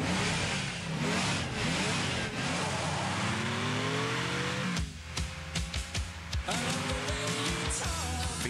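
A Holden Commodore SV6 with an all-new 190 kilowatt alloy V6 and five-speed automatic, its engine revving and accelerating in rising sweeps, mixed with loud music and effects.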